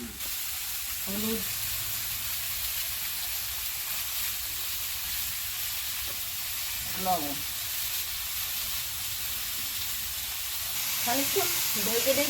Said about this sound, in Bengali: ভেজে নিই